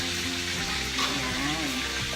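Lunch frying in a resort pantry kitchen, with a steady, continuous sizzle of oil heard close up and filling the whole moment, faint background murmur underneath.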